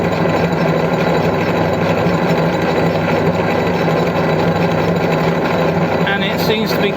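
A hobbing machine cuts an 1831 worm gear, the hob turning anti-clockwise through bronze stock, giving a steady, dense mechanical whir and rattle that runs continuously at close range, with a few faint higher clicks near the end.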